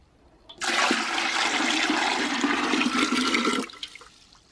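Water runs in a steady, loud gush into a pressure canner for about three seconds before stopping abruptly, with no voices.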